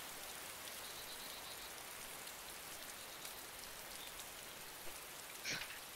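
Steady rain pours in the survival video game DayZ, a dense even hiss of falling drops heard alone at a quiet level with no voices.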